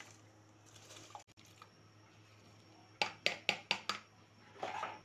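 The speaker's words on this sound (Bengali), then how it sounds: "এখন চালগুলো দিয়ে দিব।" Rice is poured into a boiling pot of chicken biryani, giving a burst of quick splashy patters and clinks over a low simmering hum, close by.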